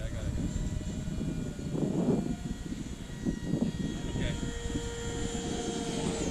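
A Freewing F-14 Tomcat twin 64mm ducted-fan RC model jet whines overhead, steady and moderately distant, with faint voices and outdoor noise around it.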